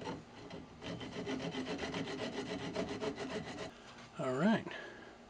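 Hand sanding a small turned wooden magic wand with sandpaper, a steady rhythmic rubbing and scraping close by that runs for several seconds and then breaks off into a brief squeak.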